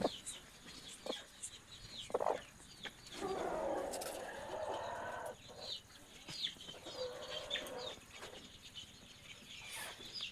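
A hen settling onto a clutch of eggs makes soft, intermittent clucks and low murmuring sounds, heard close but quietly, with rustling in between.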